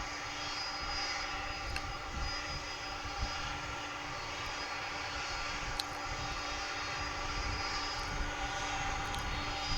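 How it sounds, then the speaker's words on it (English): A UPS cargo plane pushes back at Dallas/Fort Worth airport at night, its engines a steady broad roar with a low hum underneath, distant and even throughout, with a few faint clicks. "UPS plane pushing back"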